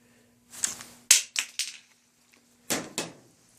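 A polymer airsoft Glock 17 gas blowback magazine falls from holster height and hits a hard surface, giving a sharp clattering impact followed by a few quick bounces, then a second pair of knocks a moment later, with no talking.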